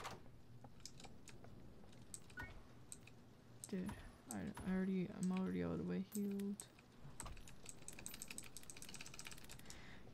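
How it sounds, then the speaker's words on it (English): Loud computer keyboard typing in quick clattering bursts during Doors gameplay, with a voice talking over the middle stretch before the keystrokes resume on their own. "You probably can hear my keyboard better than the actual typewriter when I do that."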